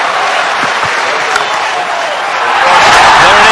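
A large cricket stadium crowd applauds and roars as Herschel Gibbs reaches his hundred in a high-scoring ODI chase by South Africa against Australia, a dense, loud wash of clapping and cheering that swells toward the end.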